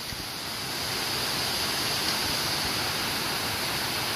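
A giant waterfall cascading down a mountain at Amicalola Falls makes a steady, dense rushing roar with no breaks, loud and enveloping, with no voices.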